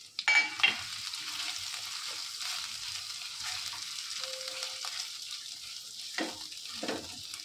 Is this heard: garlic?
yes